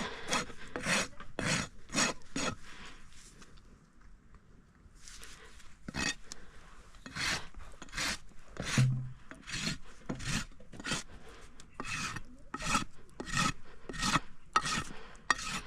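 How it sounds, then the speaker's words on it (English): A farrier's rasp files a horse's hoof during corrective barefoot trimming, with rhythmic, evenly spaced rasping strokes close up, pausing briefly partway through before the strokes resume. "I'm gonna come in with my rasp."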